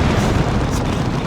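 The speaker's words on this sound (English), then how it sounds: "That was Barb Strangler suppressing him." Heavy weapon fire from a Barb Strangler in Dawn of War 2, a dense, continuous rumble of booming low blasts and overlapping explosions filling a battle scene, loud and unbroken.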